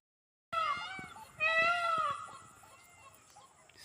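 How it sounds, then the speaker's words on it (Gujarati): A peacock gives loud, wailing calls in a village outdoors, two drawn-out cries close together, then fading into quieter background sounds. "હજી લગણ મોર બોલે છે."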